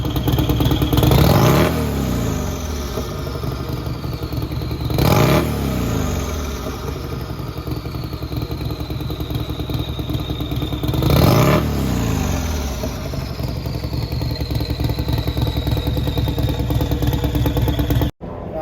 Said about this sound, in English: It's got a 128 fully built M8 motor in it.